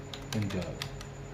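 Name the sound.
typing on a computer keyboard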